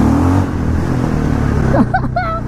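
A KTM LC4 640 single-cylinder supermoto engine revving, a loud close rough drone that rises and falls, with a brief higher whine toward the end.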